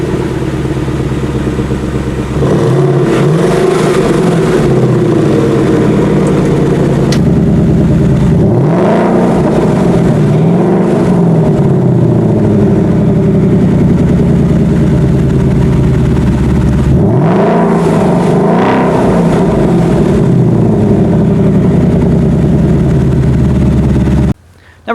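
A 2019 Ford Mustang GT with active exhaust idles loudly with a deep, steady rumble, then revs up twice in rising and falling sweeps before settling back to idle, close and alone.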